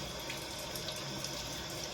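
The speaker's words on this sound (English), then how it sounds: "run it through some water first for any loose residue or anything like that" Tap water runs steadily over a freshly glued DIY shrimp cave being rinsed of loose residue, a constant close splashing hiss with no talking.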